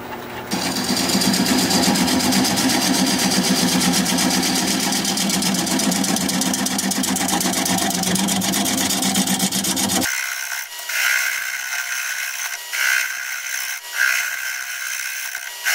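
A wood lathe turns a bowl blank at 490 rpm for about ten seconds, giving a loud, steady, rhythmic whir with rubbing and scraping texture. The low drone then drops away, leaving lighter intermittent scraping and handling noises.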